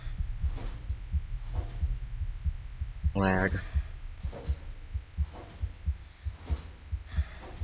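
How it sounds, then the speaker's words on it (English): A slow, regular heartbeat throbs low and heavy in the horror video game Gigglesland, a steady thump repeating about once per second under a low hum, with a brief spoken word midway. "Why is my heart beating?"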